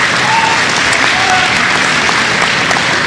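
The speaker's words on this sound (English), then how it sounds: "give him a round of applause" An audience at a high school class day celebration breaks into steady, dense applause that fills the whole stretch at close range, with no pause or fade.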